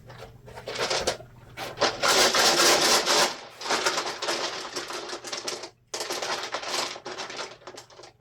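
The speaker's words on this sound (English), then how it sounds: "And some dice." Dice are shaken and rolled nearby, producing several bursts of close, dry clattering that rise and pause, with no talking.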